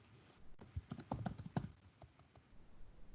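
Typing on a computer keyboard: a quick run of light key clicks in a burst, then a few scattered taps, close and fairly quiet.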